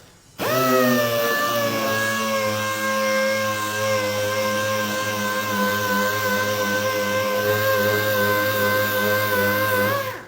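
A pneumatic tool runs steadily on compressed air, a loud, continuous whine with a constant pitch that starts abruptly and holds for about ten seconds, with no talking.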